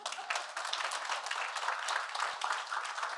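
Audience clapping in a lecture hall during a talk on data-based exercise management, fairly quiet and scattered, with individual claps standing out over a soft continuous patter.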